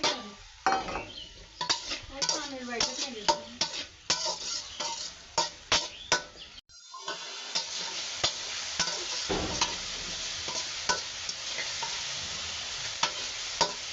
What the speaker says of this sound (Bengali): বন্ধুরা চিংড়ি মাছটা দিয়ে দিলাম